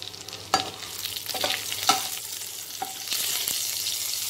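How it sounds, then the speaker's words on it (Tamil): Whole spices — star anise, cardamom, cinnamon stick, fennel seeds and bay leaf — fry in oil in a pan for egg mushroom biryani, giving a steady close sizzle broken by a few sharp stirring scrapes and clinks, with no talking. "நல்லா ஃப்ரை பண்ணிக்கோங்க."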